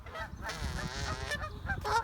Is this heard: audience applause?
no